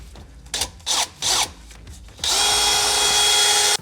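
A power drill bores a larger hole through a Ford Transit van frame: a few short, sharp whirring bursts, then a long steady high-pitched grinding whine, close and fairly loud.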